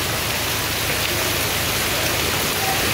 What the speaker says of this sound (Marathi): मंडळी बघू शकता तुम्ही पाऊस भरपूरच दिलेला बघा